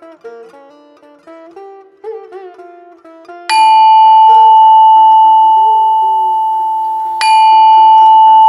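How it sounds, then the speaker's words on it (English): Two antique hanging bells for a pooja mandir ring out clearly after a soft melodic passage, the first sustained bright tone struck midway and a second strike near the end, each ringing on loudly with a long, even decay. "I've got two of these beautiful antique bells."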